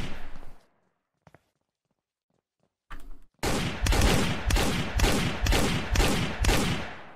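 Gunfire in the Sneak Thief video game, a heist on a yacht, bursts out as a loud, rhythmic string of about seven heavy shots in the second half, after a short burst and near silence.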